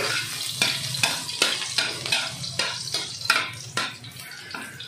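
A little cooking oil sizzles in a pan while something is sautéed for a Filipino white marlin fish steak dish, soft frying hiss punctuated by regular stirring scrapes roughly every half second, close and fairly quiet.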